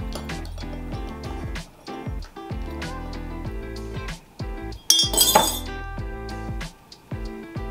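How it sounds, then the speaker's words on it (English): A spoon stirs freshly made coffee in a glass, giving steady close clinks and taps against the sides with a brief brighter rattle partway through, and no voices. "And give it a stir."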